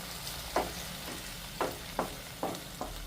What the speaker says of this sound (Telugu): ఇప్పుడు దీన్ని ఒక 2 నిమిషాలు అలాగే ఆయిల్లో కలిపేస్తాము.